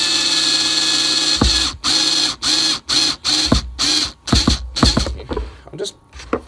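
A screw being driven into a pre-drilled hole in a cigar box lid for a diddly bow guitar, heard as a series of short ratcheting drill bursts separated by brief pauses, close and fairly loud.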